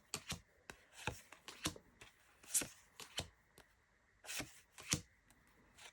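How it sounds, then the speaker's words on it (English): A deck of cards is riffled and shuffled repeatedly, crisp papery bursts in quick uneven rhythm, close up with no talking. "I think you can shuffle really well"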